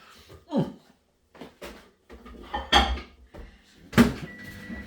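A microwave door is opened to take out hot peas, with a few separate clunks and clicks of the door and handling spread across a few seconds in an otherwise quiet kitchen.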